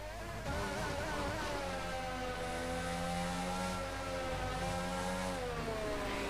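Formula 1 car engine in a racing video game, holding a steady high-pitched, siren-like drone with very consistent revs that barely rise, continuous and loud for the whole stretch with no talking.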